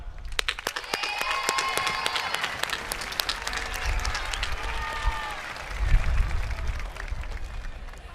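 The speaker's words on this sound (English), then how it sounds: "Let's applaud them." Steady applause from a sizable audience at a high school graduation ceremony, dense clapping holding throughout, with a few sharper claps up front.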